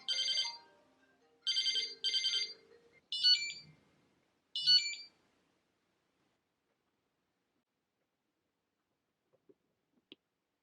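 Call notification chime from a Wahoo ELEMNT ROAM cycling GPS: four short bursts of bright electronic ringtone beeps in quick pairs, then quiet with a couple of faint clicks.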